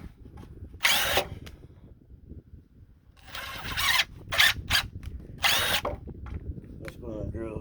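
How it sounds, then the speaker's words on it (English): Power drill bursts into a truck bed, several loud whining runs of about half a second to a second each, separated by quieter pauses with low background rumble and a brief ratcheting near the end. "Just going to drill, run it through with this."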